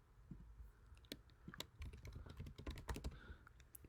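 Code being typed on a computer keyboard for a Swift chat app in Xcode: quick, close, irregular clicking keystrokes in a dense run, with no talk over them.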